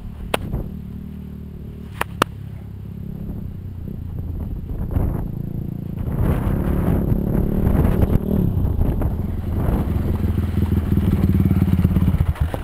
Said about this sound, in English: The throttle's stuck wide open.